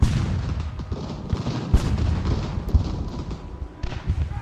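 Battlefield cannon fire in the video game Ultimate General: Revolution, a steady rumble of distant booms and gunfire with occasional sharper thuds rising out of the din.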